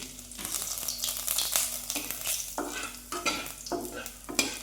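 Panch phoron and a torn bay leaf hit hot oil with a loud, crackling sizzle, broken by bursts of spattering and occasional stirring scrapes, close and steady with no talk.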